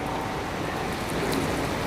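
Steady rain falling, a dense even hiss of drops, close and continuous with no voices.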